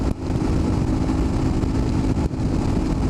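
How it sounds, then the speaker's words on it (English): A BMW R1150GS boxer-twin motorcycle engine runs steadily and loudly close by, a continuous low exhaust rumble with one brief dip partway through. "I'm going to try to get it to where you can hear the exhaust a little bit"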